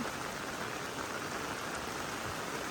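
Heavy storm rain hisses down in a dense, unbroken wash along a rural road, steady and even throughout with no talking.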